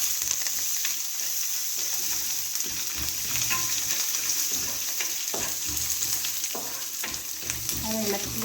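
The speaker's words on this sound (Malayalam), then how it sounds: "ഈ കുറച്ച് കൊടുത്തിട്ട് എല്ലാം ഒന്ന് ഇളക്കുക." Shallots and curry leaves fry in a pan for tender jackfruit thoran while being stirred, giving repeated close scrapes and taps over a continuous sizzle, with a brief trickle of water near the end and no speech.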